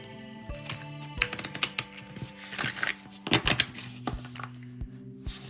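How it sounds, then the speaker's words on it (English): A tarot deck is riffle shuffled and handled in quick bursts of crisp, close card flutters and taps, soft and intimate. "See, they shuffle really well. Riffle shuffle."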